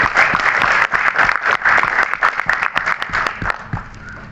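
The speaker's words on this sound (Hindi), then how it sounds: "साहिल जी के लिए एक बार जोरदार तालियां होनी चाहिए।" An audience at a Hindi Diwas welcoming reception applauds steadily, a dense wash of many hands clapping that stays loud and close throughout, with no talk over it.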